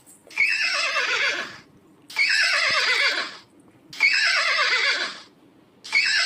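A horse neighs loudly four times in a row, each whinny a long, shrill call lasting over a second and separated by short pauses, with no one talking.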